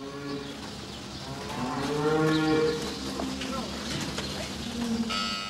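Dairy cows in a large new barn on a German milk farm moo several times, with long, drawn-out lowing calls at moderate distance and a voice speaking faintly over them.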